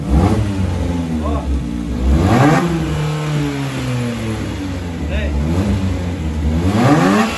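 A Chevrolet Montana running on ethanol in cold weather revs repeatedly, its engine note climbing and falling in several loud sweeps close by, with a voice faintly present.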